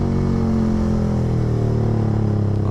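A small, fast motorcycle on a ride through Tangerang, with a steady, loud engine drone and layered harmonic rumble held close by, rising slightly in pitch toward the end.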